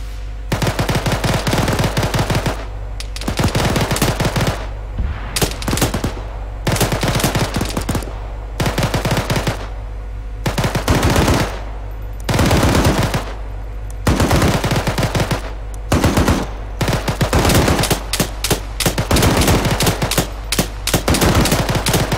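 A tank fires in a video game battle, loud and close, with repeated bursts of rapid automatic fire separated by short pauses over a long stretch.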